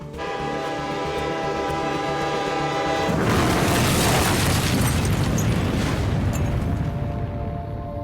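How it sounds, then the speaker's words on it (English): A massive train explosion in a Black Ops game, set in a remote northern North Korean town: a steady droning tone gives way to a sudden loud, broad roaring blast that rumbles on to the end. "there was a massive train explosion in northern North Korea"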